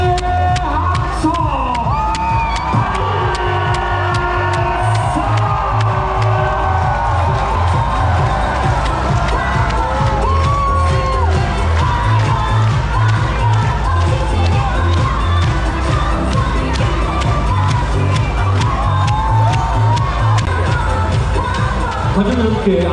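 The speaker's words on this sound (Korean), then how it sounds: "승리의 전사들에게 승리의 박수" Stadium football crowd applauding and cheering after a home victory in Chuncheon, a dense continuous roar of clapping, whoops and shouting filling the whole stretch, with an announcer's amplified voice over it.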